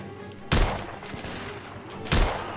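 Two loud, sharp sniper rifle shots ring out in the video game The Order: 1886, about a second and a half apart, each a sudden blast trailing into a rumbling echo.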